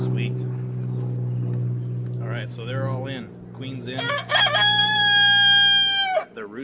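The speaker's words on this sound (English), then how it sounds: "the rooster is happy, evidently" A rooster near a backyard beehive gives a loud, drawn-out crow against a steady low hum and some nearby background sounds.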